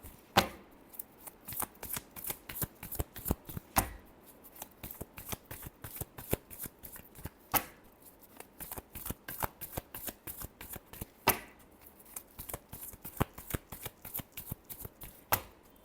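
Tarot cards are shuffled by hand, giving a fast, continuous riffling patter of crisp flicks with occasional sharper snaps, close and fairly quiet, with no talk.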